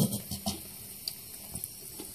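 Tap water runs into a sink while a pet Achatina snail is bathed, a steady splashing stream with a few louder spatters and knocks throughout.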